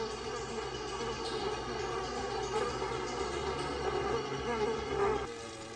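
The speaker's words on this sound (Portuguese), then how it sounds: "Uma vez bem longe da velha colmeia, o enxame pousa para se reagrupar e determinar o resto do plano." A swarm of honeybees buzzes in a dense, continuous drone after leaving the old hive, holding steady and fairly close throughout with no voices.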